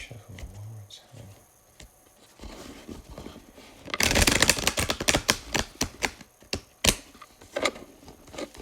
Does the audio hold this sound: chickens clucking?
no